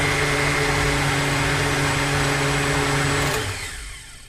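A blender whirs loud and steady as it mixes homemade celery seed salad dressing, its motor running strong for about three seconds before spinning down and fading near the end.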